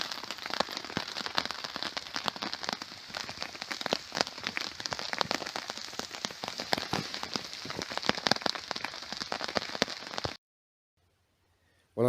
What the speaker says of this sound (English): It's been hammering it down with rain for a good few hours now.